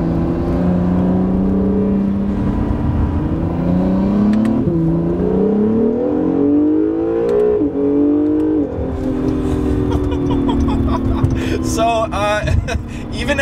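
Modified 2017 Acura NSX with iLIFT air suspension accelerating hard at full throttle, engine note climbing steadily through the gears with brief dips at each shift, loud and close from inside the cabin, continuous throughout.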